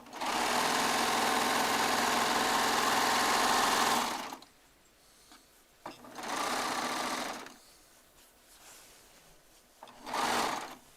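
A Baby Lock Triumph serger runs fast and steady for about four seconds, stops, then runs again in two shorter bursts separated by quiet pauses while seams are stitched.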